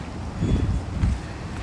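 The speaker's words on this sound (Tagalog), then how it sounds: "mahangin kasi" Gusty wind buffets the microphone in low, rumbling bursts, with a faint rustle in the background.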